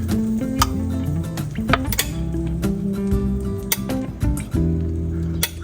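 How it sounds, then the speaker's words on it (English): Sweet potato waffle batter spread across a waffle iron with a utensil, a series of close scraping, tapping clinks of metal against the plates in an irregular rhythm, with no talk. "I like my waffles kind of soft, so I'm just going to spread the mixture so the waffle will"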